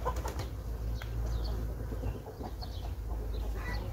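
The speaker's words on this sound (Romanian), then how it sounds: "cu găinile, e că sar pe stup și deranjează" Hens flap their wings near beehives in spring, making several short bursts of wing flutter over a steady low background rumble, at moderate distance.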